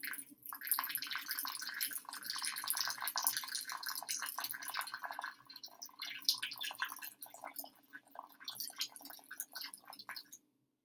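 Water trickles through a clay and sand mix: faint, continuous trickling and soft dripping, crackly and uneven, goes on quietly for several seconds with no talking.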